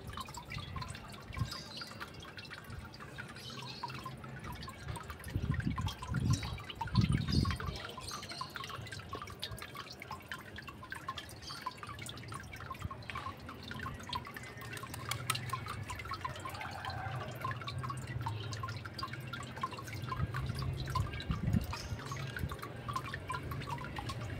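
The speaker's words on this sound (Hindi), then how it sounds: "इसलिए मैंने पूरे पानी को फ़िल्टर किया" Water dripping and trickling through a filter while recovering gold from ceramic CPU parts, a steady run of small drips and light splashes, soft and close, with no talk.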